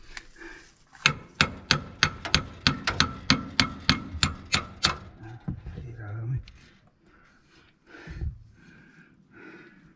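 A big hammer strikes metal about a dozen times in a quick, steady series during a bearing replacement on a grain harvester, loud and close. Scraping and rustling follow, with a few brief voices toward the end.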